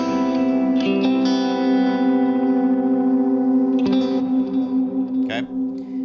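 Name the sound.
electric guitar with delay and reverb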